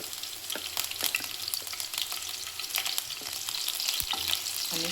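Green chillies frying in hot oil for pav bhaji, a steady crackling sizzle close up with scattered pops and occasional stirring clicks, no talking.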